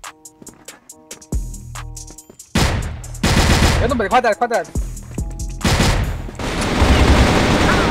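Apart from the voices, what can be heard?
gunfire in a first-person shooter video game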